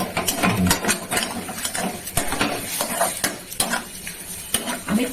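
A spoon stirs semolina pulao in a pan on a gas stove, giving uneven scraping strokes and clinks against the metal with a soft sizzle underneath, close and fairly loud, with no talking.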